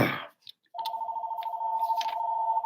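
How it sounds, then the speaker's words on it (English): A telephone rings after a short pause in a home studio setting, a steady warbling electronic ring that repeats continuously at close range and moderate loudness. "Now the phone's ringing."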